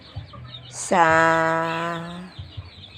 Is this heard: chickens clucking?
yes